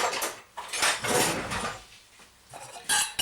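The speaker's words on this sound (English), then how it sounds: "crack an egg into a pot or a pan and just whisk it up" An egg is whisked briskly in a pot or pan with a utensil, giving busy scraping and clinking strokes that come in uneven bursts, close and fairly loud, with no talking.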